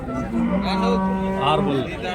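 A Punganur HF cross cow moos loudly and close by in one sustained, wavering low call lasting about two seconds.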